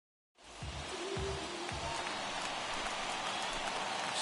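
Rain falls at a baseball game, a steady broadband hiss that starts abruptly and continues evenly. A few low thumps come early in the downpour.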